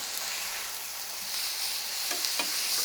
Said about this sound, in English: Add the chicken breasts, and cook them for 1 minute. Flip each breast over.